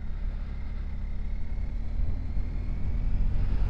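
A 2021 BMW R1250GS Adventure 40th Edition motorcycle cruises along a road, its engine a steady, low droning hum under rushing wind that swells slightly louder toward the end, with no voices.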